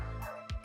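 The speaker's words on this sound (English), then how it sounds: "And that's my dog." A pet dog gives two short, sharp barks, the first longer and the second a brief yip after a pause, close and fairly clear with no talking over them.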